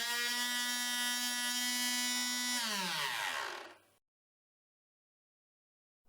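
A homemade CNC router whines steadily while engraving 10mm chipboard, a loud harmonic motor drone that drops in pitch near the end and spins down to silence.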